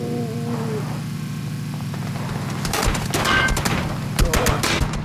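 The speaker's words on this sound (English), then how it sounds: "Where is that gunfire coming from?" Bursts of rapid gunfire in the shooter game PlayerUnknown's Battlegrounds crackle over a steady low engine hum, several sharp volleys clustered in the second half.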